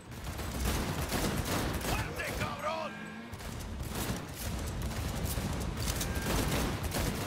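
Gunfire from a shootout in the video game Cyberpunk, with steady bursts of shots and rapid fire running through nearly the whole stretch, loud and dense, with a brief mechanical sweep in the middle.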